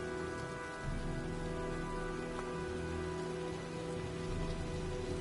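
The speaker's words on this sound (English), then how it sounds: "looks like a storm's coming" Steady rain pours in the video game Heavy Rain as a storm builds, a dense, continuous hiss of drops on surfaces with a faint low rumble beneath, even and unbroken throughout.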